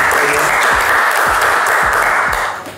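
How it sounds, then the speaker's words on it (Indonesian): A small group claps enthusiastically for guests on a casual hangout show, bright close applause with a few distinct hand claps standing out, fading slightly at the end. "Tepuk tangan dong buat teman-teman Ayama."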